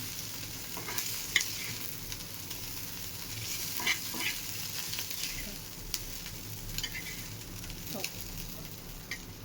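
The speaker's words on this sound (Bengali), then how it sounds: "আলুগুলো ভালো করে ভেজে নিতে হবে।" Potatoes fry in hot oil in a pan after prawns, giving a continuous close sizzle with occasional stirring clicks and scrapes.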